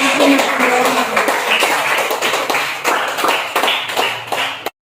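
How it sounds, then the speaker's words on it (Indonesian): A classroom of students claps together, a dense stretch of hand claps running steadily for several seconds before stopping abruptly, with scattered voices mixed in. "Tepuk tangan semua buat"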